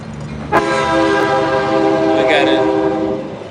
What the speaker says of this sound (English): We got a train out here.